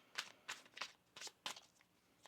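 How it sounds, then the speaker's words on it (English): Tarot cards being shuffled in a series of about six quick, crisp riffling bursts at a steady rhythm, close and fairly quiet, with no talking. "One more shuffle here."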